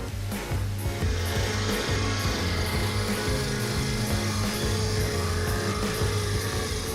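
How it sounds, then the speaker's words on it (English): High-flow Erskine stump grinder on a T770 compact track loader chewing through a tree stump, a continuous loud roar of engine and grinding wood with no letup. "Introducing the T770 compact track loader combined with the high-flow Erskine stump grinder, a dynamic duo in land management."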